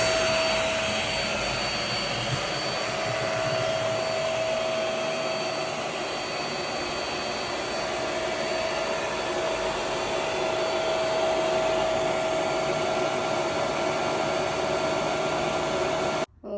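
A cordless vacuum cleaner from Amazon runs continuously at close range with a loud, steady motor whine and airflow roar, with no speech, cutting off abruptly at the very end.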